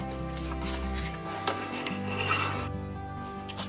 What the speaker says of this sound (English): I'll sand this a little bit